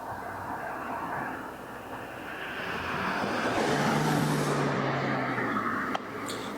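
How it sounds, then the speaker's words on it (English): A car passes by on the road outside, its broad roar swelling toward a loud peak and then easing off, with a sharp click near the end. "oh no, there's a car coming."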